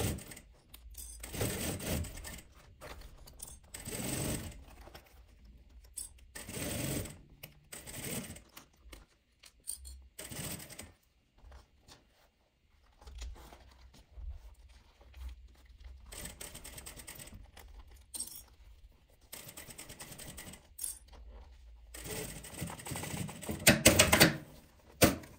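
A home sewing machine stitches a zipper onto a small fabric travel pouch, running in repeated bursts of rapid mechanical clatter separated by short quiet pauses, close up and with no talking.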